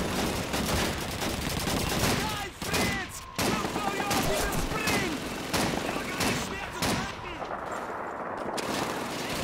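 Rapid gunfire bursts from Call of Duty 2 rattle almost continuously through the clip, loud and close, with brief pauses between volleys and talk mixed in.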